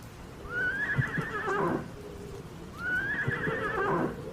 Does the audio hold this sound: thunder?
no